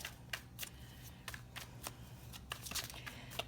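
Tarot cards being shuffled during a reading, a quiet run of soft riffling flutters and light slaps in irregular bursts, close and faint with no talk.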